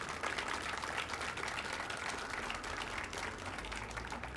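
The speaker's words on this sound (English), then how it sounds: "So I want to give you all a round of applause." Steady crowd applause fills a grand opening for an arts space at King Street Station, many hands clapping continuously at moderate distance with no pauses.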